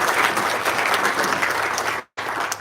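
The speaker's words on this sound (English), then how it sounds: "I'd like to get a round of applause" A crowd applauding steadily and loudly at a groundbreaking ceremony, the clapping cutting out abruptly for a moment before resuming.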